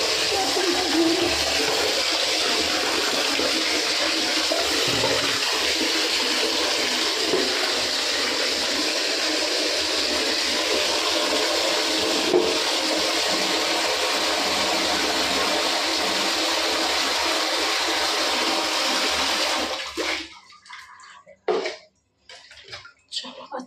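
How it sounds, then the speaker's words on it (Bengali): Water splashing and running steadily as a balcony and bathroom floor are washed down, a dense continuous wash that stops abruptly near the end, leaving a few faint knocks and quiet room sounds. "চলো বাথরুমটা ব্যালকনিটা ধুয়ে দিই।"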